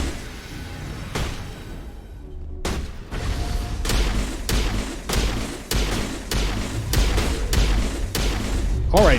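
Gunfire in Mass Effect Legendary Edition: a steady series of loud, punchy shots, roughly one every half second, with a short pause early on and a voice talking among the blasts.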